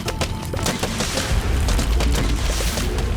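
Cob cannons fire in Plants vs. Zombies: Replanted, a loud rapid barrage of booming thuds and crackling impacts layered densely over one another without pause.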